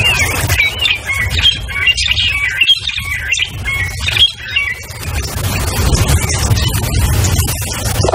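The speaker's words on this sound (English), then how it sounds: "The drongos are making plenty of noise. And so are the oxpeckers." Drongos and oxpeckers calling near a buffalo in the African bush, a loud, dense mix of chirps, squawks and tweets overlapping continuously with a low rumble beneath, no voices.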